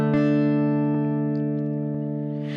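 A single plucked electric mountain dulcimer string note rings out with long, steady sustain, a few light re-strikes ticking faintly in the background, no talking.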